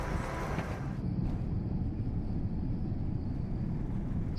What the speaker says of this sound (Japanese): 飛行機が今離陸していきました。